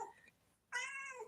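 A pet cat lets out two loud, drawn-out meows close by, a short one followed by a brief pause and then a longer, strained wail.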